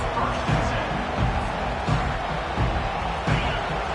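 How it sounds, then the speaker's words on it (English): A football stadium crowd roars at full throat during a game, a dense, loud wall of cheering with periodic swells and thuds, with voices mixed into the din. "This crowd, full throat, splitting the eardrums"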